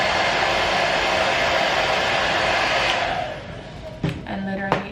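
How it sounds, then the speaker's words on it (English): A blow dryer on its hot setting blasts with a steady, loud rushing hiss as it dries a glueless Yaki straight wig's lace. It cuts off partway, leaving quieter handling noises and a few clicks. "I'm going with a blow dryer on hot"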